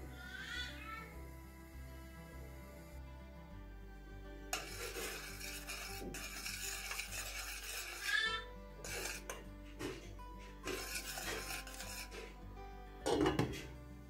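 A spoon stirs milk noodles in a cooking pot with intermittent scraping and clinking against the metal. A low hum runs underneath, and a few sharper knocks come near the end.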